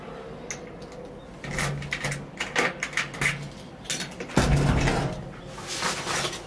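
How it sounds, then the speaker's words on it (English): An apartment door is being locked in a Tokyo building: several metallic clicks, a key jangle and latch clunks come in short bursts, fairly close and moderately loud, with no talk. "I come back because I forgot to lock the door."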